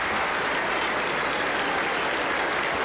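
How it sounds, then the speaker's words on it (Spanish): A Pentecostal church congregation in Huancayo applauding, with dense, steady clapping from many people throughout. "Aplauso para nuestro Señor Jesucristo."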